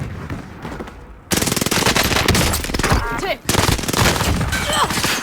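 Rapid automatic gunfire in the Call of Duty Warzone video game, dense bursts of shots crackling loud and close, with a brief pause between volleys and a player's voice mixed in.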